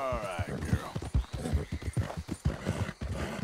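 Horse hooves pounding in a rhythmic gallop in the video game Red Dead Redemption 2, close and steady, with a brief whinny and a voice talking over it.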